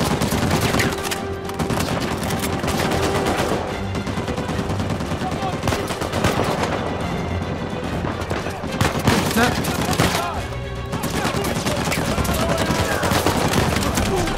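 Video game gunfire from Uncharted 4, a dense, continuous stream of rapid weapon shots with bursts layered over one another, loud and steady for the whole stretch with no break.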